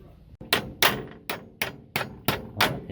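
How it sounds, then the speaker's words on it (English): Six loud metallic hammer blows land on a stuck metal part of a 1976 camper at a steady, slightly uneven pace, each a sharp ringing strike that decays quickly before the next. "Or we could hit it with a hammer."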